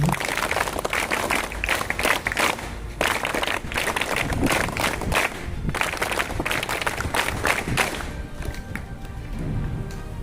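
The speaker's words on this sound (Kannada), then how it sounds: "ಒಂದು ಬಾರಿ ಜೋರಾಗಿ ಚಪ್ಪಾಳೆ ಹೊಡಿದ್ರು" A school audience in Totli village claps loudly in dense, sustained applause, with a few brief lulls and a slow fade toward the end.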